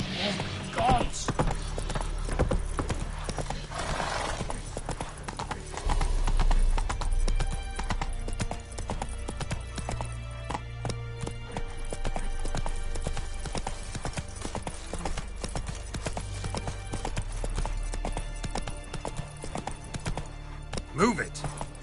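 Hoofbeats of Roach, Geralt's horse in The Witcher 3: Wild Hunt, clop in a steady galloping rhythm throughout, with occasional whinnies, under game music and a spoken voice.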